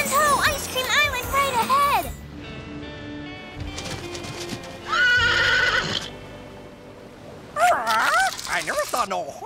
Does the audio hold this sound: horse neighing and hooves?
yes